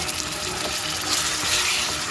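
Gongura leaves dropped into a hot tempering of oil, spices and turmeric on a gas stove give a steady broad sizzle with faint watery hiss, continuous and close, no voices.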